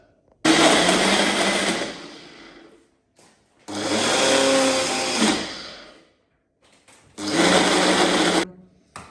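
A bullet-style smoothie maker whirs loudly as it blends a berry smoothie with protein powder, running in three separate bursts of a couple of seconds each, with short pauses between them and no talking.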